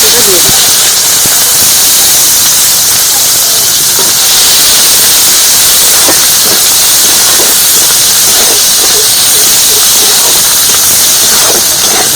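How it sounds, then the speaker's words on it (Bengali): Black sesame seeds hit hot oil already holding chopped onion, raising a loud, steady hissing sizzle that runs the whole way through, with scattered crackles and pops on top. "কালো তিল দিয়ে দিচ্ছি তেলের মধ্যে"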